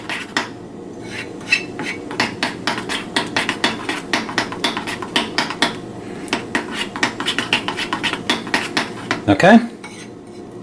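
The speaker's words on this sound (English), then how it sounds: "we'll give the black frosting a quick mix up as well" A utensil briskly mixing black frosting in a bowl, rapid repeated scraping clinks against the bowl in a steady rhythm, close and loud, ending with a short louder clatter; a voice speaks once briefly.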